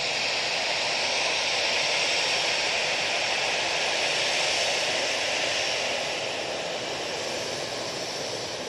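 An EasyJet airliner at Manchester Airport, a steady broadband jet roar that holds loud and even before easing slightly toward the end, with no voices.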